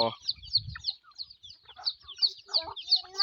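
A mother hen and chicks fed by hand on a Thai farm, with rapid high peeping from the chicks over low clucks and brief murmured talk, close and lively.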